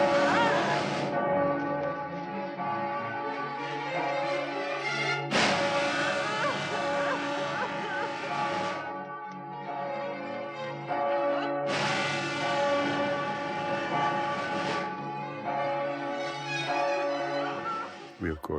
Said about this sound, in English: We, of course, laid in the sound of the bell